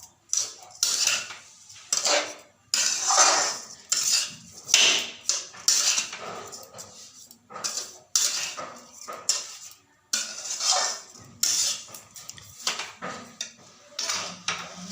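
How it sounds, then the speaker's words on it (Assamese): A coconut and sugar mixture is fried in a wok with a metal spoon, steady scraping and knocking strokes repeating in quick bursts close up, with no talk. "নাৰিকলৰ মিশ্ৰণখিনি কেৰাহীত মই ভালদৰে ভাজি ল'ম।"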